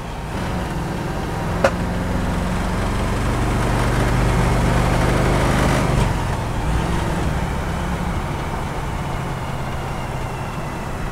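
A 1967 Chevrolet Camaro drives along steadily with a continuous engine and road drone, loud and near; a brief sharp click and a slight rise and fall in the engine note suggest a gear change, with no voices.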